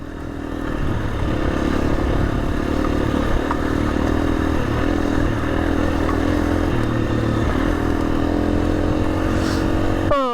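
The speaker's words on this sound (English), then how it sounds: "I do love this bike." An off-road motorcycle fitted with a mousse or TuBliss tyre system rides through potholes. Its engine drones loud and steady throughout, with faint rattling and clatter from the rough ground.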